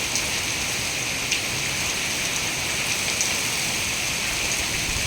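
Heavy rain pours down in a dense, steady hiss with no letup and faint scattered drops standing out, loud and close throughout, no voices.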